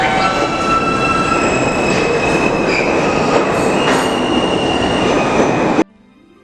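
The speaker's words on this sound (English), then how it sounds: "This is a World Trade Center bound E-train." A World Trade Center-bound New York City E subway train running loud and close, with a dense steady roar and squealing wheels, cutting off abruptly near the end.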